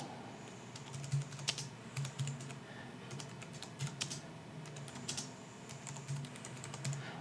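Fingers type on a computer keyboard in short irregular bursts of light clicks and key taps, moderately close and quiet, with no one talking.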